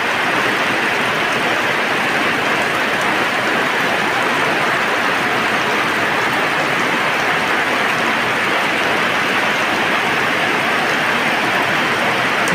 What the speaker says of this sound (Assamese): আজি মৌচুমীৰ এনেকুৱা প্ৰভাৱত অসমত ধাৰাসাৰ বৃষ্টি